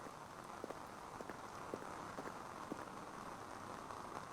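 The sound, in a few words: rain falling in Lunacid video game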